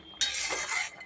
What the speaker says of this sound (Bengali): মাছের ঝালটা হতে হতে আমি বাসনগুলো মেজে নেব